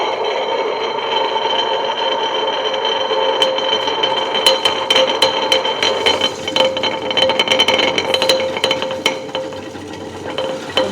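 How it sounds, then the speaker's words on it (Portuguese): A heat gun's steady, loud blowing hiss runs throughout, with scattered clicks and light clatter of handling over it. "Aqui a gente vai usar o soprador térmico. Eu vou ligar."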